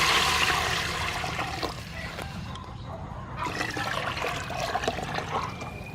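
Water pours into a cooking pot holding garlic fried in soybean oil, a loud rushing splash at first that settles into a steadier trickle and bubbling, close by with no talk.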